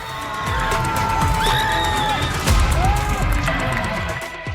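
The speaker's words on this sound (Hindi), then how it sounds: "लोगों ने तालियों से दोनों ही पहलवानों का मनोबल बढ़ाया" Spectators at a women's wrestling dangal cheer and applaud loudly in a dense, continuous crowd roar, with whoops and a sharp bang standing out midway.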